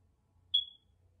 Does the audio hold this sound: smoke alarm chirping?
yes